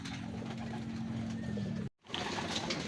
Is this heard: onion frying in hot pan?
no